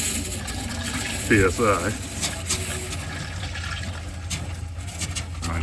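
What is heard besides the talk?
compressed air blowing water out of RV water lines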